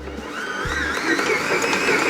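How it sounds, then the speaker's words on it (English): A Kenwood stand mixer kneads pasta dough at speed 3, making a steady whirring motor drone with a high whine that builds slightly and stays loud and close. "on my Kenwood stand mixer, I'm going to set it to speed 3 and we'll let this go for about 5 minutes"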